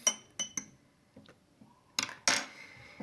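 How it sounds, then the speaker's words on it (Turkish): A spoon stirring a shaving-foam and borax slime mixture gives off a few bright metallic clinks against the bowl. The clinks come in short, sparse clusters, close and fairly quiet. "Kaşığımızla şimdi karıştırıyoruz."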